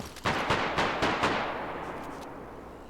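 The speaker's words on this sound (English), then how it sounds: "They're shooting at Zeds, probably." Gunfire at zombies in the video game DayZ: a burst of several loud, sharp shots in quick succession over the first second, fading into a long echoing tail.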